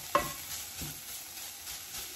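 Ground meat frying with garlic in a pan, a soft steady sizzle under a few brief stirring scrapes, the first one sharper, no talking.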